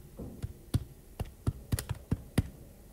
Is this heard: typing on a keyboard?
yes